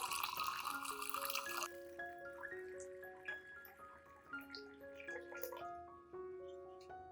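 500 milliliters of water pours into a container, first as a noisy gush, then as a rising, ringing tone as the vessel fills, with a few drips near the end.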